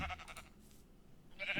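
Sheep on a video game sheep farm bleating, one short call at the start and another near the end, faint, with no talk.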